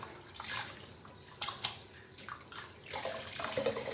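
Water from soaking bamboo is poured into a kitchen sink, heard as close splashing and gurgling bursts over a few seconds, with no talk.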